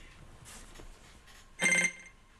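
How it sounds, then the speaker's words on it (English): An electronic phone-like ring tone bursts out loudly for about half a second in a spirit box recording, standing out above faint scanning static and fragmentary noise. "That sounded like a phone"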